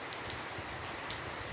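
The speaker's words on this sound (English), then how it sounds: "It's raining and I'm still going to school." Steady rain falling and pattering on surfaces, an even continuous hiss with a few louder drops, no voices.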